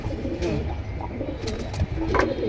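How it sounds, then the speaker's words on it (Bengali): A pair of pigeons coos softly, low throaty calls repeating close by over a constant background murmur. "মাশাল্লাহ খুব সুন্দর এক জোড়া কবুতর"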